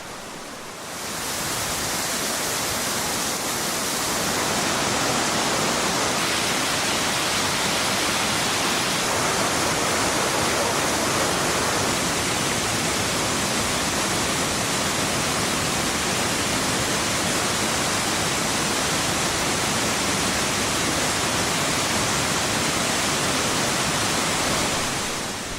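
Waterfalls and streams at the Plitvice lakes, a loud, steady, full-bodied roar of rushing water that holds unbroken for the whole stretch, close and enveloping, without voices.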